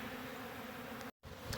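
Bees buzzing at a bee feeder on a cool morning, a steady close insect drone filling the clip with a brief gap near the end.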